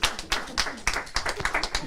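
Audience clapping for Pastor Coleman at a community program introduction, a short burst of scattered, uneven claps from a modest group with voices mixed in.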